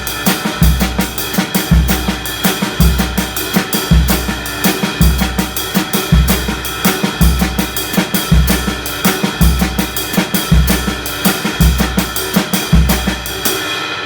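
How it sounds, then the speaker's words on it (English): Drum set playing an Afro-Cuban 12/8 groove with two-note snare phrases, steady repeating low kick pulses under a swinging triplet cymbal pattern and crisp paired snare strokes, close and even throughout, with no talking. "we're just going to 2-note phrases on the snare drum instead of single notes"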